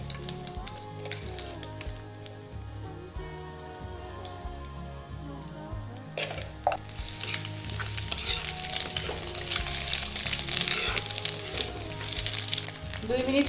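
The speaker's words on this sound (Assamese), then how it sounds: "অকণমান কণীৰ টুকুৰা 2 মিনিটমান ভাজি ল'ম" Egg pieces frying in a pan, starting as a quieter sizzle under a low hum and speech-like tones, then turning into louder, denser crackling spatter in the second half.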